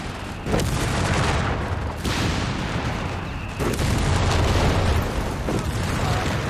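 Gunfire and explosions in Company of Heroes 3 as units shoot over buildings in a 2v2 match, a dense, loud battle mix of booms and bursts that rumbles continuously with several sharper hits.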